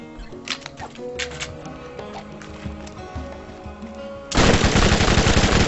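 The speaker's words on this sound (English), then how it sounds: "Did you see that gun fire?" Rapid gunfire in the Borderlands shooter game, with clattering shots over music for several seconds, then a sudden loud, harsh burst of fire at the end.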